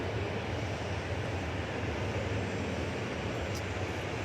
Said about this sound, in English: here again is the stand-up to cancer livery Airbus A321